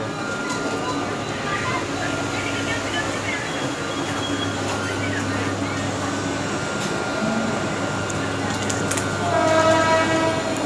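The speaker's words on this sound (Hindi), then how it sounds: "तो दोस्तों अभी मैं ट्रेन में बैठ चुका हूँ, तो अभी जा रहे हैं।" A steady, loud rumble from inside a moving train, with continuous rail noise and a faint hum, while a person talks over it.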